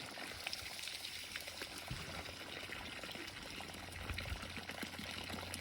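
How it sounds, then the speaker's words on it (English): RV antifreeze drains from an opened drain in a faint, continuous trickle and splatter of liquid, quiet and fairly steady with small irregular drips. "Open those up, and like I said, you'll get some, that's the antifreeze that went down the drains and the toilet"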